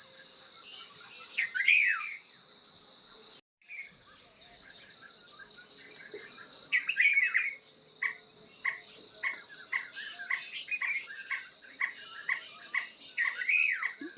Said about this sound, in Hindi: अलग अलग भाषाओं में बोल रहा है ये कटकोरिया, इसको हम यहाँ कहते हैं कटकोरिया।